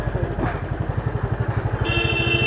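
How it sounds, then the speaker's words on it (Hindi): A motorcycle engine-brakes on a flyover, giving off a close, steady low pulsing thump with a rapid regular beat, and a higher whine joins in near the end. "अब इस फ्लाईओवर पे गाइस मैं आपको इंजन ब्रेकिंग लगा के दिखाऊंगा"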